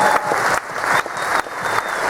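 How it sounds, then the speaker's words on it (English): An audience applauds participants at the end of a hypnotist's stage show, with dense, loud clapping that carries on throughout, swelling in waves with slight dips between bursts. "Give them a huge round of applause."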